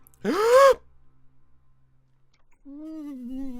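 A person takes a sharp, loud, voiced gasping breath before holding it; a quiet pause follows, then a low, steady hum-like vocal sound.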